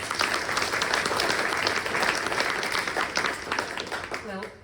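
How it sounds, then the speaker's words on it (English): A warm round of audience applause for Yasmine at a panel on Palestinian rights, steady dense clapping from the room that thins and fades toward the end. "give a big and warm round of applause for Yasmine"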